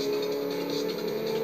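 Car engine in the Xbox 360 racing game Forza Motorsport 4, a steady droning hum held at one pitch without revving, continuous at moderate level with no talk over it.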